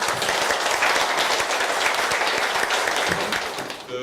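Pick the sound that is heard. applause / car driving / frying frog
applause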